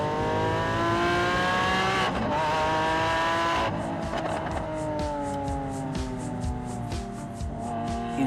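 A Lamborghini Aventador S V12 engine revs hard through rising and falling sweeps, loud and close, with sharp gear changes and a continuing high-pitched howl as it accelerates.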